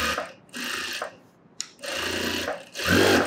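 An electric sewing machine stitches the lining of a sleeveless top, running in several steady whirring bursts separated by short pauses, loud and close with no speech.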